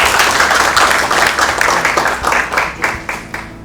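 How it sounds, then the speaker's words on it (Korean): An audience claps steadily to welcome a speaker at a Korean tax and inheritance law seminar, dense applause that is loud at first and then thins into scattered claps before fading. "큰 박수로 환영해 주세요."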